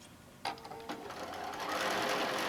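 A sewing machine stitches down the border of a forest panel quilt, its steady motor hum building after a couple of short starts and running continuously, close and fairly loud, with no talking.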